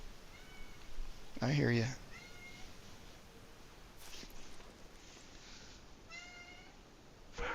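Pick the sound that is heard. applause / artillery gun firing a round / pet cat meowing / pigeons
pet cat meowing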